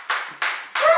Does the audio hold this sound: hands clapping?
yes